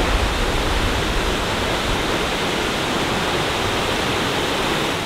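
Nachi Falls, the tallest waterfall in Japan, roars as a loud, steady broadband rush heard from a viewing platform, continuous and unbroken throughout.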